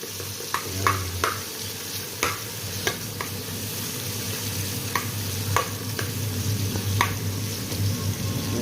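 Onions frying in a pan for pansit bato, a steady low sizzle under intermittent scraping and stirring clicks from a utensil, close and moderately quiet, with no talking.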